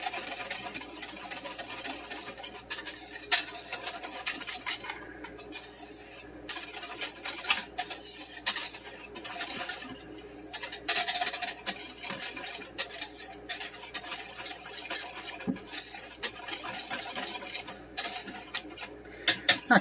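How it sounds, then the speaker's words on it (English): Blackberry pie filling stirred in a bowl, with a steady run of close clinking and scraping strokes lasting about twenty seconds and no voices. "you're first going to want to mix this together till it's not lumpy anymore"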